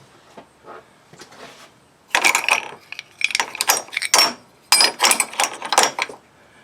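Metallic clicking and rattling bursts from a ratchet working an intake manifold bolt on a 2009 Buick Lacrosse, close and fairly loud, coming in irregular clusters with short pauses between them.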